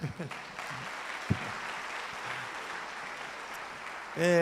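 An audience at a church message applauds the news of a fundraising profit with steady, moderate clapping. A voice speaks briefly before it and again at the end.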